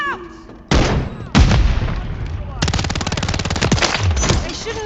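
Automatic gunfire from Call of Duty Warzone, loud sharp bursts with a sustained rapid volley in the second half, mixed with explosions and game effects.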